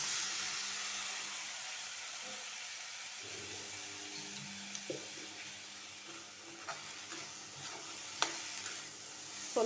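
Boiled black chickpeas being stir-fried for usli in a pan, with a steady hissing sizzle and occasional light scraping taps of a spoon, fairly quiet and with no talk.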